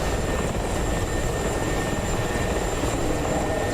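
Attack helicopter, a Ka-50 or Mi-24, flying in a combat flight game, its steady rotor and engine roar holding loud and continuous without a break.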